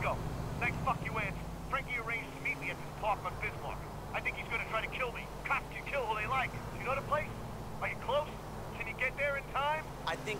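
A phone rings in the video game Grand Theft Auto IV, a repeating electronic ringtone heard over engine and traffic noise, with someone talking over it.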